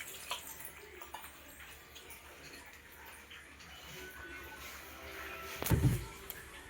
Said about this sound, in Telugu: తగినంత నీళ్లు వేసుకొని కలుపుకోవాలి.